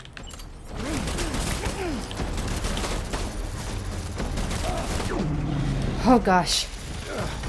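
Enemy gunfire in Death Stranding on a WWI battlefield, bursts of rapid shots and booms rattling over a rumbling backdrop, with a player's voice exclaiming over the noise.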